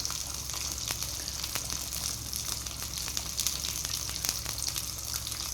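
Garlic and tomato fry in a pan, a continuous close sizzle with crackling pops and occasional stirring, steady throughout with no talking.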